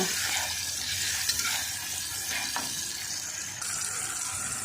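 Whole spices, two bay leaves, cardamom pods and cinnamon, stirred in a pan of hot oil, giving a steady soft sizzle with a few light scraping clicks of the spoon, close and continuous with no voices.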